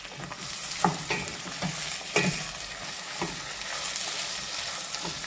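Black-eyed peas (acebek) are sautéed in a pan, giving a close sizzle broken by several scraping stirs at irregular intervals, with no voices.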